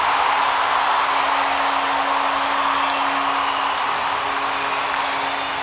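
Steelers fans roar and cheer inside an ice hockey arena after a bounced-in goal in an EIHL game against Cardiff Devils, a loud, steady wall of crowd noise with a faint sustained tone running beneath it.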